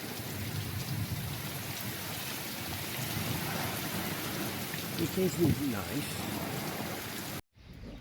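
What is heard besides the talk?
heavy rain during thunderstorm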